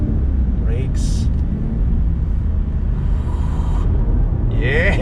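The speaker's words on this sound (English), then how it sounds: "The whine from the supercharger really comes out as you are doing the business, working the twisty bits" A supercharged Cadillac CTS-V sedan driven hard along a twisty road: a constant low, heavy engine rumble with a faint thin whine riding above it, steady and close throughout.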